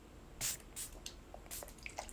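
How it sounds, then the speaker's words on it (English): Hair and body mist is spritzed from a small pump bottle in a few short, soft hissing sprays, close but quiet, with faint handling clicks between them. "This is the hair and body mist. I strictly spray this"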